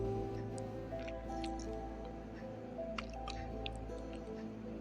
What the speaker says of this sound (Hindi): और चावल जो है वो भी मैं यहाँ पे धो रहा हूँ।